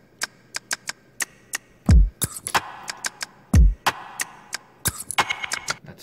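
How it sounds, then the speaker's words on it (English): A beat whose hi-hat is a shortened finger-snap sample, crisp clicky ticks running steadily between deep booming kicks and sharp snare hits, loud and alone. "This was a snap sample, like a snap. And then I shortened it, and then like I played it as a hi-hat basically"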